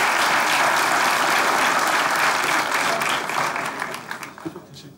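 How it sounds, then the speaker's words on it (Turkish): Studio audience applause on a Turkish comedy show, dense and loud for about three seconds before thinning into scattered claps and dying away. "Alkışlarınızla."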